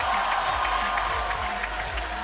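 A powerlifting crowd at Sheffield 2024 cheers and claps for weightlifter Jonathan Cayco, a dense, continuous wash of applause and shouts heard close and fairly loud throughout.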